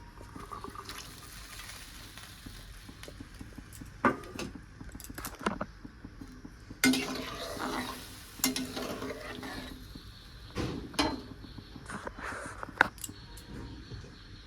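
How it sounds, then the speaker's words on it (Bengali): Onion, chili and garlic dropped into water in a cooking pan and stirred, heard as soft intermittent splashes and spoon scrapes with a few louder sloshes, fairly quiet overall. "এখন এই জলের মধ্যে দেব পেঁয়াজ বলে লঙ্কা আর হচ্ছে রসুন।"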